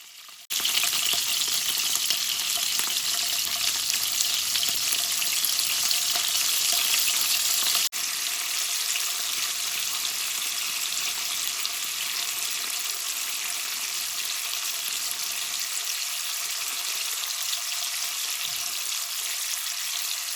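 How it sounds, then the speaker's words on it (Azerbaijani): Salted peppers sizzle and crackle steadily in a hot pan, a dense frying hiss that continues without talk and softens slightly partway through. "Biberləri də eyni qaydada duzlayıb qızartıram"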